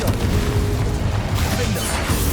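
Blasting spells in the Hogwarts Legacy video game, Bombarda, Incendio and Confringo, unleash a dense, continuous run of booming explosions and crashing impacts, loud and close with no letup.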